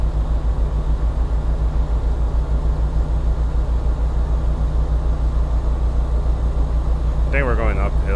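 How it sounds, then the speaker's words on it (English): Steady low truck engine drone from American Truck Simulator runs loud and continuous throughout, with a voice briefly talking over it near the end. "My engine sounds really weird"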